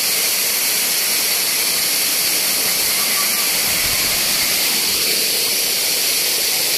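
Strong water rushes loudly and steadily at a waterfall, a dense unbroken roaring hiss close by that fills the whole clip with no pauses.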